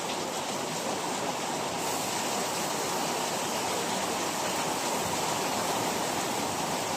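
Heavy rain pours down in a steady, dense hiss that stays unbroken and loud throughout, with no voices.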